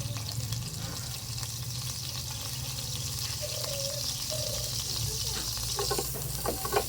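Cooking oil sizzles in a pan while lechon sisig is made from leftover roast pork, a steady close frying hiss with scattered crackles and pops and a few light stirring clicks toward the end.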